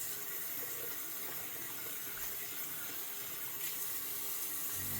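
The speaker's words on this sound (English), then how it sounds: "wash your face with really hot water, as hot as you can stand" Hot water streams steadily from a tap into a sink for face washing, making a continuous soft hiss and splash, quiet and unbroken, with no speech.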